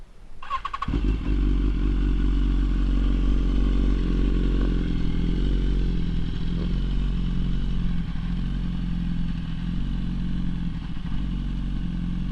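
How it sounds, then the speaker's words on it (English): A Bren Tuned 2013 BMW S1000RR sportbike, warmed up, starting and then idling with a loud, steady, deep engine rumble close by, a few light clatters over the top, and no talking. "So we'll see what she sounds like."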